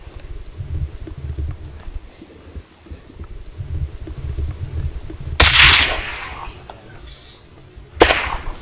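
Two sharp, loud rifle shots ring out a few seconds apart during a Sitka blacktail deer hunt on Kodiak Island, each cracking over a low outdoor rumble.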